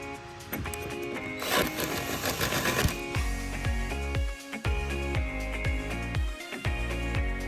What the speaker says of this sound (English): I'm going to go ahead and make my countersink on each of these